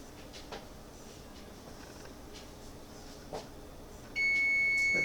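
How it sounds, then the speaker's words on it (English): An electronic kitchen oven timer gives a steady, loud continuous beep that starts near the end, after quiet room noise with a few soft knocks. "So there's my timer."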